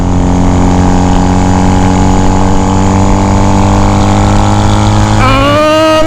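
A motorcycle engine drones loud and steady at close range, then its pitch rises sharply near the end as it accelerates out of a corner, with no talk over it.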